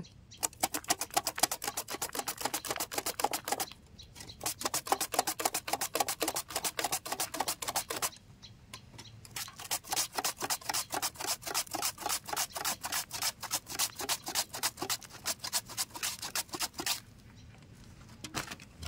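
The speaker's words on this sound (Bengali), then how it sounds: "আমি কেটে নিচ্ছি দেখুন চিপসের সাইজ মতো আলুগুলো কেটে নিচ্ছি" A knife chops potatoes into chip-sized pieces on a board in rapid, regular, close-up strokes, the dense rhythm broken by two short pauses, with no talking.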